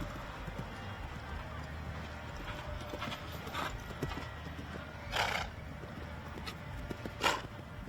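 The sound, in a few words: horses trotting around the show arena circle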